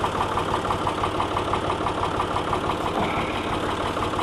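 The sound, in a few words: small 48-horsepower tractor engine idling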